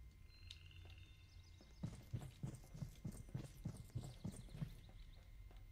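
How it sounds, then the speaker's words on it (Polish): Heavy stomping footsteps in a Roblox horror game start after a quiet moment with faint tones, then about a dozen regular, evenly spaced thuds at a brisk walking pace, close and fairly loud. "Przestań tupać"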